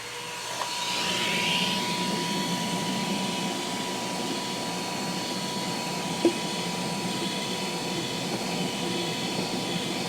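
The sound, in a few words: vacuum hose cleaning a fan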